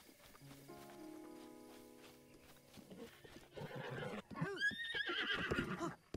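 A horse in The Legend of Zelda: Breath of the Wild whinnies loudly with a rising-falling neigh near the end, following a stretch of steady tones and soft clip-clopping movement.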